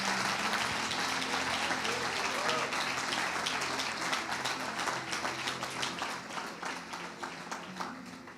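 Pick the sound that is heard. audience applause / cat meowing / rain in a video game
audience applause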